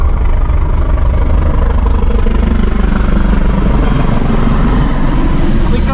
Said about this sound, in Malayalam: നേരെ മേലെ ഒരു ഹെലികോപ്റ്റർ പോകുന്നുണ്ടോ